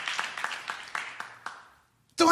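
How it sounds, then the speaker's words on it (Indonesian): A church congregation applauding during a sermon: a run of evenly spaced, reverberant claps that fades away to near silence before a voice starts speaking. "berikan tepuk tangan yang meriah buat Tuhan"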